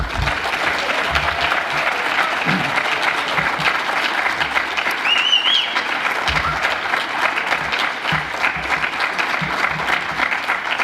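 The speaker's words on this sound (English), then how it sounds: "Can we give all these students a round of applause?" Sustained audience applause for students at a school celebration evening, a dense even wash of clapping from a sizable crowd lasting throughout, with no speech over it.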